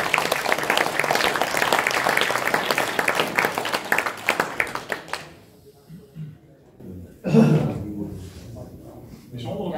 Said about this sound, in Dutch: Applaus voor deze mensen.